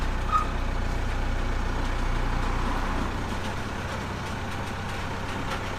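A JCB machine rolling slowly off a lowered HGV trailer, its heavy diesel engine holding a steady, close rumble throughout, with a slight drop in level partway through.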